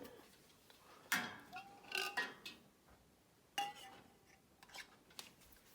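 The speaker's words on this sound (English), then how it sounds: "with your magnet thingy, just take your lid and put it on." A metal jar lid is set onto a rhubarb jam jar in a canner with a magnetic lid lifter, giving a few light clinks and clatters, close and quiet with soft handling noise between.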